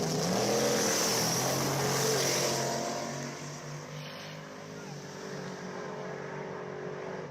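Drag race cars roar down the strip in a semi-final, a loud sustained engine blast that fades as the cars pull away into the distance, leaving a lower, steady drone.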